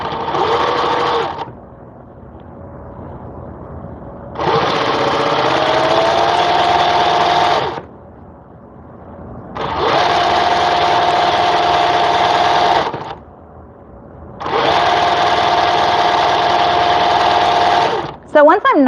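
A sewing machine stitches a fabric casing seam in three to four steady, whirring runs of a few seconds each, close and loud, separated by brief pauses.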